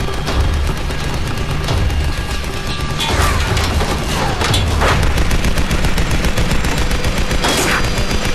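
Dense, rapid gunfire from the Tomb Raider video game crackles throughout, with sharp bursts and crashing impacts over a rumbling low backdrop, loud and close.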